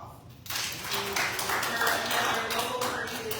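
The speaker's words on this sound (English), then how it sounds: "we can give them a round of applause" A round of applause from the audience at a Kirby, Texas city council retreat dinner breaks out about half a second in and holds as steady, dense clapping through to the end, with a voice talking underneath.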